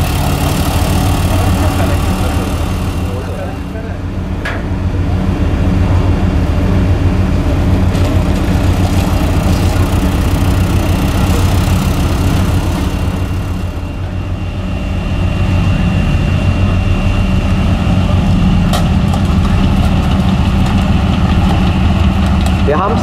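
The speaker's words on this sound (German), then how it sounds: "Das Fahrzeug, was Sie jetzt hier über das Gelände fahren sehen, ist ein Ferret" A Ferret armoured scout car drives across open terrain at a military vehicle display, its engine a steady, loud, rumbling drone throughout that swells and eases slightly as it passes.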